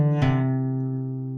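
A single guitar note is struck and rings on with a steady tone, part of a song's bass line played on the 4th string with a hammer-on and pull-off, close and clear with no voice.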